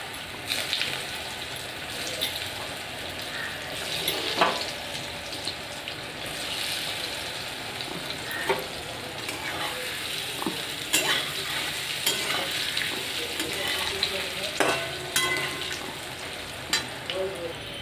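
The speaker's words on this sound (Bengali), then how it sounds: "কড়াই বসিয়ে দিয়েছি, সাদা তেল দিয়ে দিয়েছি। এখন একে একে ধোকাগুলো ভেজে নেব" Lentil cakes (dhoka) fry in white oil in a wok, giving a steady, close sizzle with occasional stirring clinks and bubbling.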